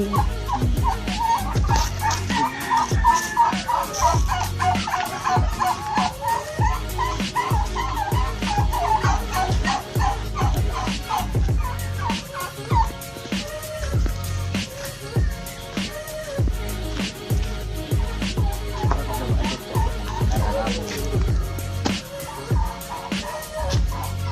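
On a farm in Zambales, chickens cluck and crow near and far over a constant bed of other animal calls and rustle, with occasional barks mixed in across the whole stretch.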